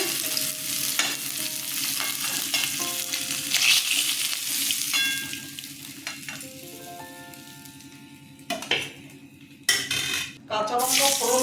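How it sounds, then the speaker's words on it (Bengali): Fried pona fish is lifted out of a pan of hot oil, with continuous sizzling, frequent metal clinks and scrapes of a utensil against the pan, and a few louder knocks near the end. "মাছ সব ভাজা হয়ে গেছে উঠিয়ে নিচ্ছে"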